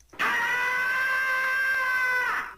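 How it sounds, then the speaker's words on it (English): Tom's cartoon scream from Tom and Jerry: one sustained, piercing, tonal yowl lasting a little over two seconds, loud and close, with nothing else around it. "Let's import Tom's scream."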